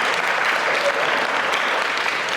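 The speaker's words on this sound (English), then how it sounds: "Why only few people are clapping?" An audience at a Hindu spiritual lecture claps steadily and continuously, a dense, even wash of applause from a crowd in a hall.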